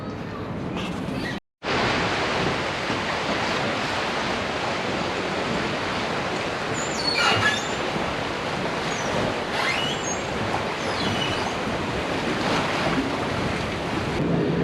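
Steady rush of water and engine hum from a moving boat on the Thames in London, with wind buffeting the microphone; a brief dropout near the start, otherwise continuous.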